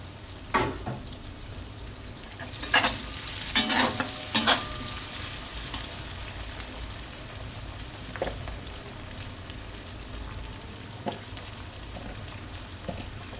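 Tomatoes sizzle in a pan for a chicken kofta curry, a soft steady frying hiss broken by several scraping stirs of a spoon, the louder ones clustered early and sparser ones later.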